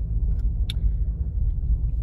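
A car slows and pulls over on a snowy mountain road near Big Bear, its low steady engine and road rumble filling the scene, with a faint click or two and no speech.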